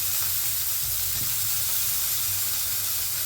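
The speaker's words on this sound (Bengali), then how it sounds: "এই অবস্থায় পেঁয়াজের সঙ্গে আলুগুলো ভেজে নেবে।" Potatoes fry with onions in a pan, a loud, continuous hissing sizzle of hot oil that holds steady throughout with no talk.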